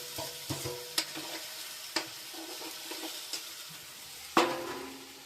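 Onion, ginger and garlic sizzle softly in a frying pan, with a low steady crackle broken by several sharp clinks and scrapes as the mixture is stirred, one louder knock near the end.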